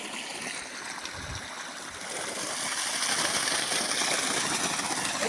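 Water gushes steadily from a farm borewell in Gadhshirvaniya village, a broad continuous rush that swells louder partway through, with no talk.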